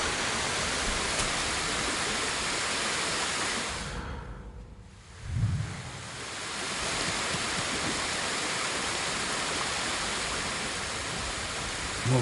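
A waterfall in Ghost of Tsushima roars loud and steady as broadband rushing noise, dipping briefly midway with a low thump before the constant roar returns.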